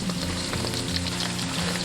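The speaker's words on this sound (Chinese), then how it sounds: "一定要把它炸至表面虎皮状，炸的时候比较黏" Chicken feet deep-fry in oil over medium heat until tiger-skin blistered, giving a close, steady crackling sizzle with no talk.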